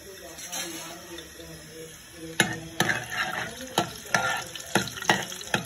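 Garlic fries in a pan with a soft background sizzle, broken by a series of sharp, close scraping clatters from stirring, about eight irregular strokes in the latter half.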